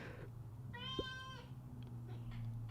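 A single clear cat meow, mid-length and tonal, rising and falling, close by against a quiet indoor room hum, with faint background sounds afterward.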